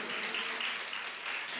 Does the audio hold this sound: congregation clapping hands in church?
yes